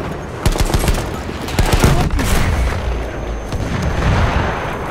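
Battlefield 1 battle with bombing and gunfire: loud, dense rapid shots and booming blasts layered over a constant rumbling roar, continuous and close throughout, no talking.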